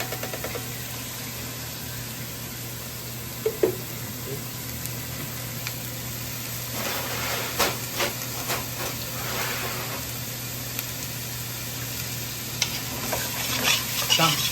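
Onions hit garlic-infused oil and fry for a morcilla and huevos rotos dish, giving a steady low sizzle. Several bursts of stirring scrapes come through, with a faint background hum throughout.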